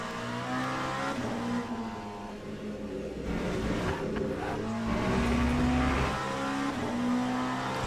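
A race car in the Le Mans Ultimate sim racing game holds a loud, steady engine tone with rising and falling revs and a brief tyre squeal, running continuously without voices.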